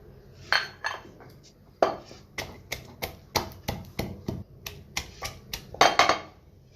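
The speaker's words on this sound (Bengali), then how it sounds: "এবারে রসুনের কোয়াগুলোকে আমি হালকা থেতো করে নিব" Garlic cloves being lightly crushed for a chalta pickle in a home kitchen, heard as a series of about fifteen sharp, close knocks and clatters at an irregular, quick rhythm, with no talking.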